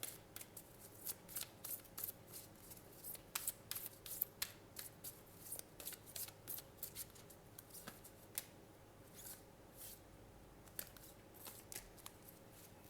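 Tarot cards being shuffled and drawn by hand, a quiet series of soft riffling flicks and taps in irregular bursts, close and faint with no talking.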